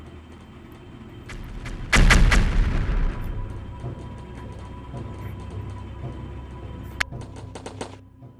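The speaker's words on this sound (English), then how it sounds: "You attack its cannons that are firing at you." Cannon fire in a bird video game, one loud booming blast followed by a decaying rumble and scattered mechanical clicks and a sharp later crack, with no talking.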